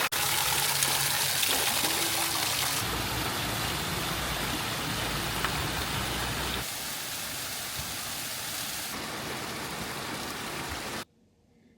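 Waterfall cascades near a cave in Interlaken pour in a loud, steady rushing roar that continues without a break for about eleven seconds, then cuts off.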